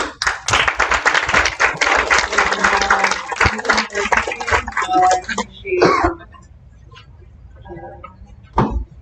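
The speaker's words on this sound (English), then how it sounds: "please hold your applause." Audience applause at a county school board of trustees meeting, a burst of many clapping hands lasting several seconds and then fading, followed by scattered quieter sounds and a person speaking.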